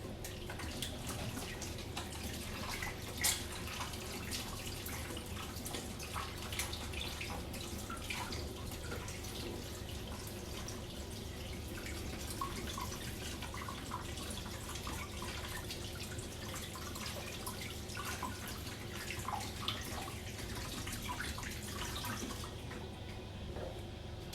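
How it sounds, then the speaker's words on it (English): Hands washed under a running kitchen tap, with a steady close stream of water splashing and irregular drips and sloshes as the hands move, and no talking. "I'll wash my hands now"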